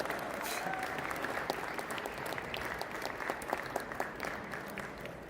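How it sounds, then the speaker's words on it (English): Audience applause at a ceremony formalizing an agreement with ambassadors on stage at GITEX Kenya 2026, steady clapping from a large crowd filling the hall and continuing evenly throughout. "Please, huge round of applause once again."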